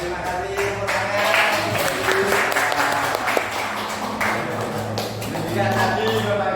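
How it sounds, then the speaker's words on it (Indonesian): A crowd at a school teachers' forum claps steadily throughout, with voices talking underneath the applause. "terima kasih tepuk tangan"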